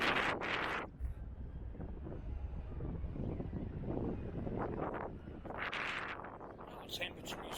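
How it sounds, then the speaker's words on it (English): Wind buffets the microphone on an overcast afternoon in Blackpool, with loud rumbling gusts that swell and fade over a steady roar of outdoor noise. "as you can probably hear, it's windy."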